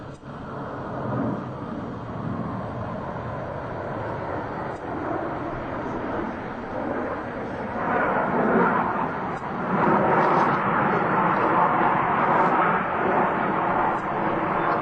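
US Navy Blue Angels jets flying a left echelon roll at an airshow, a sustained roaring engine rumble that swells louder toward the end, heard from a distance with no speech.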